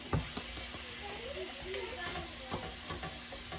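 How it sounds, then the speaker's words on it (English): Diced onion drops into raw ground meat in a hot pan, giving a steady soft sizzle with a few sharp stirring clicks and scrapes against the pan. "We're going to add our diced onion right into the raw meat."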